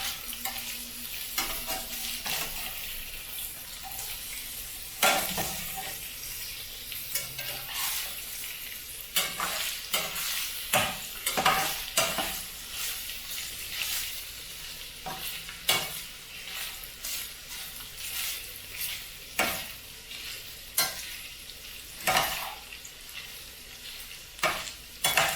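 Sausage seasoned with oregano frying in a pan for pizza fries, a constant sizzle broken by frequent scraping stirs of a utensil, close and with no talking.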